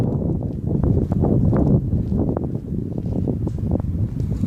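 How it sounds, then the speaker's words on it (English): Strong wind buffets the microphone outdoors in open country near an abandoned railway link, a continuous close rumbling roar with gusty fluctuations and no speech. "Oh, it's quite windy."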